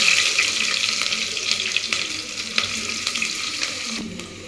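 Chopped large onions fry in hot oil with popped mustard seeds, giving a continuous close, bright sizzling hiss with faint scattered crackles and a light knock near the end, without any talking.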